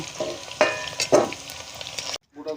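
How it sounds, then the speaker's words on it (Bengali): Dried red chillies, cinnamon and cardamom dropped into hot oil, giving bursts of crackling sizzle and a few clattering stirs up close, ending abruptly with a short gap and a faint trailing sound. "আমি কিন্তু এখানে শুকনো লঙ্কা, দারচিনি এগুলো সব দিয়ে দিলাম, এলাচ ফোড়নটা দিয়ে দিলাম"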